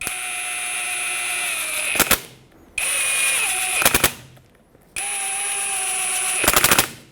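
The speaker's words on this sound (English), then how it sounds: "let's put in the bolts. Get that T27 socket on." Small bolts on the front wheel hub bearing of a 2011-2016 Ford F-350 are driven in with a T27 socket on a power tool: three steady high-pitched whirring runs, each ending in a brief rattling clatter as the bolt seats.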